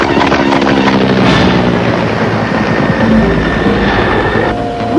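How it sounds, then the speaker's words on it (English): A helicopter on a rooftop whirs loudly in an animated scene, mixed with bursts of gunfire and explosive thuds, a dense, chaotic roar throughout. "I noticed there's a helicopter on the roof."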